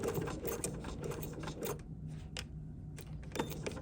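Sewing machine over-sewing on top of previous stitching on an embroidery sampler block: rapid, steady mechanical stitching clatter close up, pausing briefly and resuming in short bursts.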